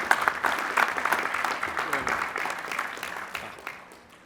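Applause from the audience at Lehigh University's 151st spring commencement greets the master's degree recipients, a moderately loud, spread-out clapping that gradually fades toward the end.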